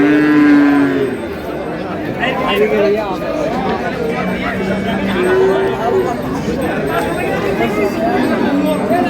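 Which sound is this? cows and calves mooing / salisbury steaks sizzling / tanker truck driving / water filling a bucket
cows and calves mooing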